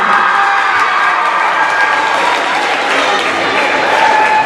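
An audience applauds a spelling bee winner with loud, sustained clapping mixed with some cheering and crowd noise, continuous throughout without a break.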